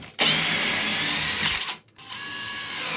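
A cordless drill drives a T25 screw in one long, loud whirring run that cuts off, then picks up again at a lower pitch, steady and close, with no talk.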